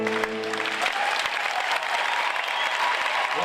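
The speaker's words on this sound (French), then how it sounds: "Merci encore, on vous applaudit." An audience bursts into dense, steady applause, a crowd of many hands clapping together at a celebrity charity event, sustained for a few seconds after a brief musical tail.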